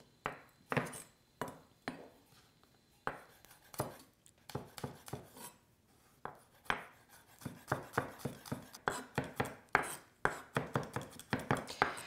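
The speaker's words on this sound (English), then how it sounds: "I'm just going to cut the edges" A knife taps and slices through a garlic clove on a cutting board, trimming its ends. The cuts are quiet, close and irregular at first, then quicken into a denser run of chopping taps.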